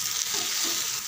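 A dosa fries in a thin film of oil on a hot pan, giving a steady, close, soft sizzle with faint stirring or scraping as it is flipped, and no voices.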